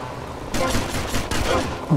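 Shotgun fire in Grand Theft Auto: Vice City: two close, loud blasts about a second apart, each a sharp broadband crack with a rumbling tail over steady in-game ambience.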